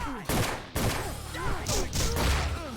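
Armed enemies firing guns in the PlayStation 2 video game Yakuza 1, a few loud sharp bursts of gunfire mixed with someone talking and game sounds.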